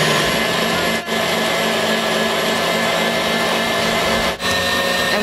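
An electric mixer whisks egg whites while caster sugar is gradually added, a loud, continuous whirring motor hum running throughout, with two brief dips in sound.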